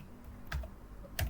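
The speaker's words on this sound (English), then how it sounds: "I will type the name that I want this file to be" A computer keyboard being used to type a file name in Microsoft Word, heard as two separate sharp keystrokes. The sound is close and fairly quiet with no voices.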